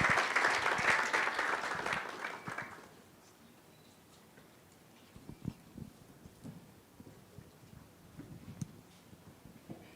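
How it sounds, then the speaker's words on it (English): Applause welcomes a scholar at an Equity Bank leadership program gathering, a loud burst of many hands that lasts about three seconds, then dies away to a quiet room with scattered small knocks. "Please welcome her with a round of applause"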